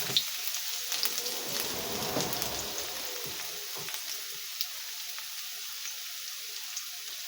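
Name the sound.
vegetables and garlic frying in very hot cooking oil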